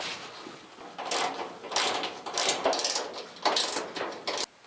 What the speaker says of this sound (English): remove the two top panel screws, which will be located on the inside, here and here